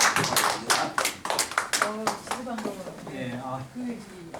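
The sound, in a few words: congregation clapping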